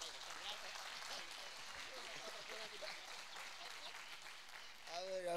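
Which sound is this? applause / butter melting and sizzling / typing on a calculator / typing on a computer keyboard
applause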